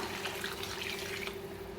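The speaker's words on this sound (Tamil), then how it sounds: "காய் வேகிறதுக்கு தேவையான அளவுக்கு தண்ணி சேர்த்துக்கலாம்" Water poured into a pot of Thanjavur poricha kuzhambu, a Tamil curry of sautéed vegetables and masala, as a steady close splashing stream that runs for about a second and a half and then stops, with no talk.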